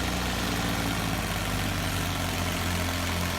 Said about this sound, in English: they've just added another tractor